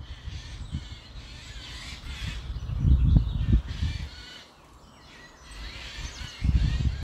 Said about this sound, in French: on entend des oiseaux, on dirait des perroquets